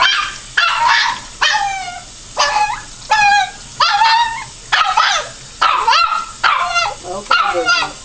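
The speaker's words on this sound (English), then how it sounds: "my Boogie has a really loud voice" A dog being bathed in a plastic box barks and whines loudly at close range, with about a dozen rising, yelping bursts repeating in a fairly regular rhythm and short gaps between them.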